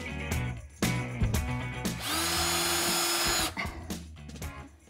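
A power drill drives screws while a restaurant bar is being assembled, with a sustained whirring run of about a second and a half framed by clunks, taps and handling knocks close by.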